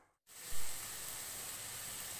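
Chopped onions hit a hot pan and start sautéing with a sudden hiss after a moment of silence, settling into a steady, even sizzle, close and moderately quiet.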